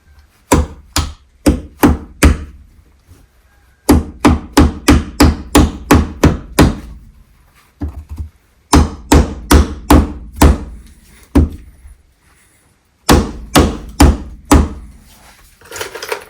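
Staples hammered into wooden wall studs to secure electrical wiring in an open wall before insulation, loud close hammer blows in quick bursts of four to eight strikes separated by short pauses, with no talking.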